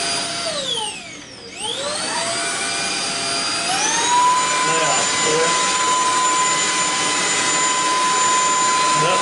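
Shark ION F80 cordless vacuum cleaner motor switched to boost, its whine sweeping up into a loud, steady high-pitched drone that holds to the end.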